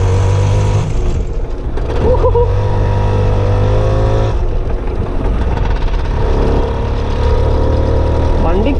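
A vintage Vijai Super Mark 2 scooter engine drones steadily and close while being ridden, its buzzing note rising and falling with the throttle over continuous road and wind noise.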